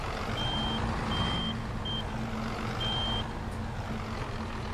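Reversing beeps from a truck in a farming video game, a few high steady tones with uneven gaps over a loud constant diesel engine drone, close and unaccompanied by speech.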